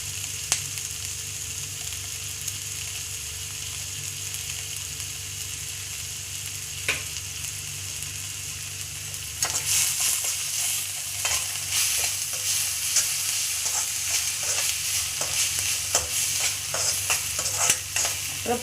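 Ginger garlic paste sizzles in a hot pan, quiet at first, then frying louder and crackling as a utensil scrapes and stirs with repeated clicks against the pan, with no talking.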